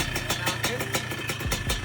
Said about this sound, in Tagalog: Okay na yung motor ni Jawo.